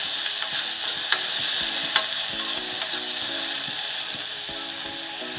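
Ingredients browning in a pan give a steady, loud sizzle, with frequent scraping and tapping from a spoon stirring throughout. No voices are heard.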